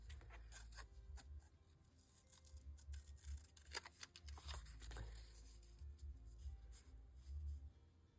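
Scissors snipping paper for a junk journal craft project, a quiet series of irregular close crisp cuts and rustles with no talking.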